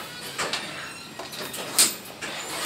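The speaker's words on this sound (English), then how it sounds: "Hey, instant door closed." A modernized Haughton traction elevator door at Riley Hospital for Children slides shut, with a few soft mechanical rumbles and one brief sharp clunk in a quiet cab.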